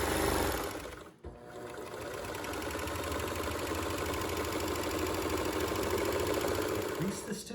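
A Baby Lock Celebrate serger hums and whirs steadily up close while sewing a thread chain, briefly stopping near the start before running continuously again, with a voice speaking over it.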